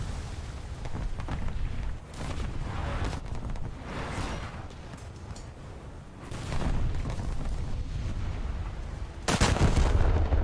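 Naval guns in a warship video game fire on zombie ships, a dense rolling barrage of booms and blasts, with one loud heavy shot near the end and no talking.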